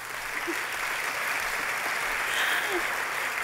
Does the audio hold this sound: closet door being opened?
no